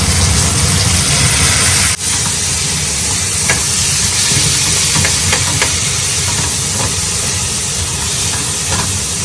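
Fish sauce hitting a hot pan for ginisang monggo, a loud, dense hiss of sizzling steam that stays constant throughout, with a brief dip near the start and no talking.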